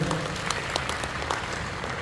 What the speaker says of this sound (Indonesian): Boleh tepuk tangan yang meriah buat kita?